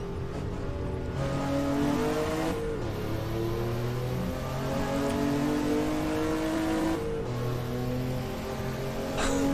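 A Porsche 930 racing car engine in rFactor 2 drones steadily and loudly, its pitch climbing through gears with brief dips at each shift, continuous throughout without talk.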